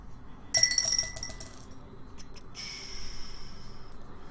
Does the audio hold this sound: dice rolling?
yes